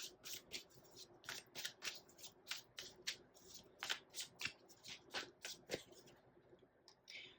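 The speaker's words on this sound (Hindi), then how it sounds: "ओके, एक और कार्ड निकाल के देखते हैं आपके लिए।" Tarot cards are shuffled by hand in quick rhythmic riffles and taps, repeating bursts of close papery clicks for several seconds, quiet and without talk.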